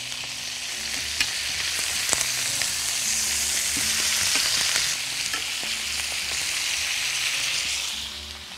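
Chicken pieces fry in a pan alongside raw zucchini for a spicy chicken dish, with a loud continuous sizzle and occasional utensil taps as the pieces are turned.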